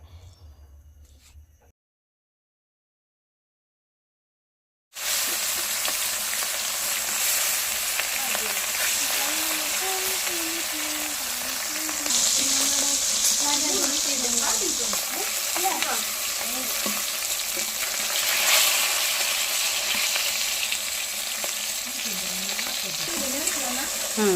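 Fish fries in a pan with a steady loud sizzle and crackle, beginning abruptly after a few seconds of quiet and continuing unbroken, with a voice speaking faintly underneath.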